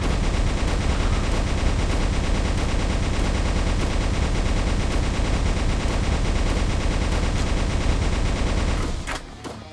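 Rapid automatic gunfire in a video game with a boosted fire rate, a loud continuous close stream of shots that cuts off abruptly near the end.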